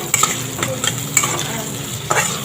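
Vegetables fry in a home kitchen pan while being stirred, giving a continuous sizzle broken by sharp scraping clicks of the spatula against the metal.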